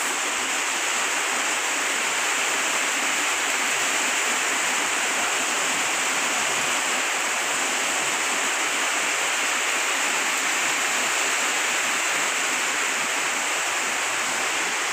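Heavy, steady rain pours down in a dense, even hiss that stays constant and close throughout, with no voices over it.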